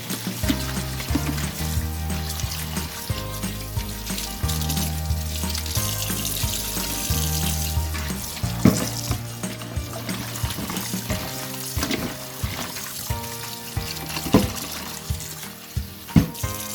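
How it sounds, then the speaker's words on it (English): Water runs from a kitchen tap during hand washing, a steady splashing flow into the sink with soft clinks and shifting splashes over a low rhythmic hum in the background. "Always gotta wash your hands."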